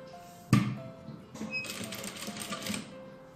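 A sewing machine stitching jacket fabric, with a sharp mechanical clack followed by a short run of rapid, fairly quiet needle chatter.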